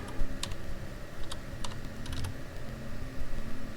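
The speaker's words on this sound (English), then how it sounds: "Type the date 6/7/22." A date is typed on a computer keyboard as a quick cluster of crisp key clicks, close and clear over a faint steady hum.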